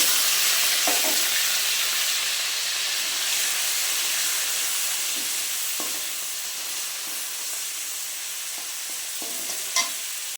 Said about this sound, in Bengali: কাঁকড়াটাকে ভেজে নেব